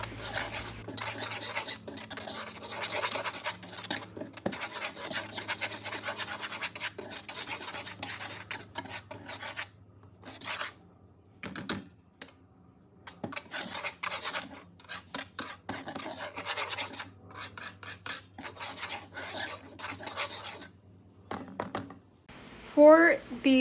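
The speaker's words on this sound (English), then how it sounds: "take a whisk and mix everything together until everything is combined" A whisk scrapes and rasps around a bowl, mixing the dry ingredients for double chocolate chip muffins, close and steady in rhythmic bursts with brief pauses, while a person talks over parts of it.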